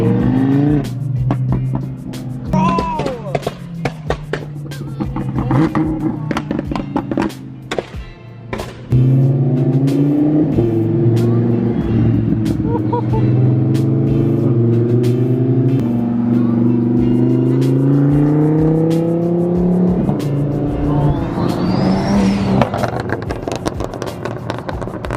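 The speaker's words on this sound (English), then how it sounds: "that Lambo, the orange one, is so freaking loud." Orange Liberty Walk widebody Lamborghini driving nearby, its engine loud and continuous, revving and rising in pitch through gear changes with a sustained roar and brief throttle blips.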